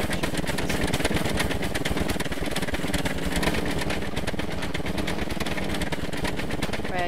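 A heavy tour bus engine in Scrap Mechanic runs steadily with a fast, pulsing mechanical chug, loud and constant throughout with no pauses.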